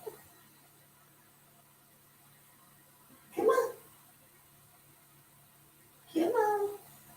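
A pet cat gives two separate meows a few seconds apart, fairly close, with quiet room background between them.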